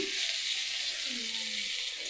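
Garlic, green chili and chopped tomato frying in oil for an egg curry, a faint, even sizzle running throughout, with a low voice briefly audible in the background.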